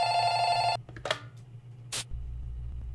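Telephone ringing in the Roblox horror game Light Bulb, a loud electronic ring that stops abruptly, followed by short clicks and a brief burst of noise over a low hum.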